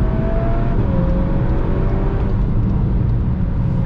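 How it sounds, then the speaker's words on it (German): A Volkswagen Golf 8 R driven in Race mode gives a steady, loud engine drone with road and wind rumble from inside the car, holding a constant pitch with no talking. "dann machen wir jetzt mal Race rein und fahren weiter"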